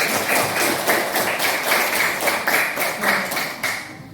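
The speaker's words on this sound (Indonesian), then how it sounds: "Aplaus untuk diri kita masing-masing." Audience applauding themselves in a classroom gathering, a steady, dense clapping from many hands that holds for several seconds with a slight swell and fade near the end.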